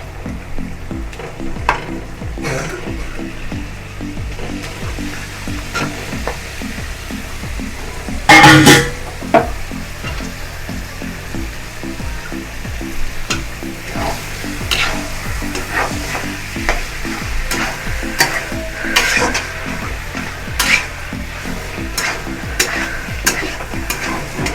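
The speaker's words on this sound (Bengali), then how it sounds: "মশলা কষানো হয়ে গেছে, আমি দিয়ে দেবো এবার মাংস।" Chicken pieces added to a Bengali-style spice paste and stirred as they fry, with a steady sizzle and repeated scraping stirs throughout, plus a louder clattering burst near the middle.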